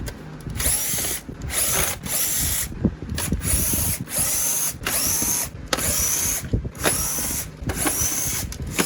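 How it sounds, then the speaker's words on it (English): A power drill backs out screws from the rear housing of a Hoover commercial Task Vac bagless vacuum, running in loud, close, repeated whirring bursts separated by short pauses as it moves from screw to screw. "So we're going to undo all of these screws."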